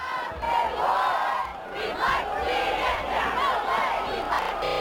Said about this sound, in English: this Rough Rider crowd on the opposite side cheers on